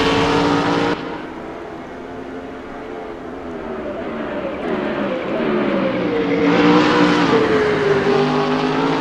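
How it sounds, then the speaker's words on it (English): A BMW Alpina race car in a racing video game at Zandvoort, its engine roaring hard and steadily down a straight. The pitch climbs and swells louder toward the end as the car accelerates. "Jolicoeur has got that BMW Alpina moving. It is smoking down that first straight."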